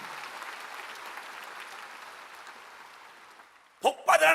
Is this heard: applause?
yes